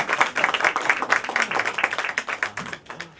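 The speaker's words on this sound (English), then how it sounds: "Big round of applause." Scattered hand clapping from a small audience at a university winter school session, with distinct irregular claps close by and a few faint voices mixed in.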